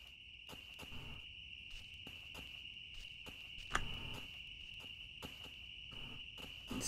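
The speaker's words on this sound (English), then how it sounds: "It's funny of the sound of the bugs because it's early morning." Insects chirp in an early-morning game world in Planet Explorers, a steady high continuous trill with faint soft taps and rustles underneath, quiet and ambient.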